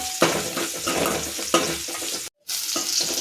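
Onions, garlic, chilies and curry leaves sauté in a pan with a steady, dense sizzle and occasional stirring scrapes, close and continuous, broken briefly by a short silent gap.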